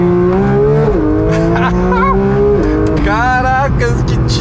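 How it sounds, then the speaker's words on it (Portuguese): A Porsche 911 GT3 992 engine revving hard toward high rpm on the Velo Città track, heard from on board as a loud, rising wail that drops at gear shifts and climbs again, with a voice talking over it. "Olha como ele gira solto esse motor"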